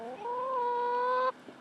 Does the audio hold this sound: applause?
no